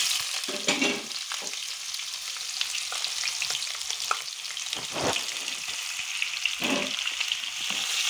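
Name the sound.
sautéing onions with mustard seeds and curry leaves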